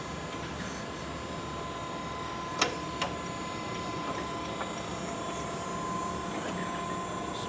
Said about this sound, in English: it's fully automatic and indexes on the z-axis right here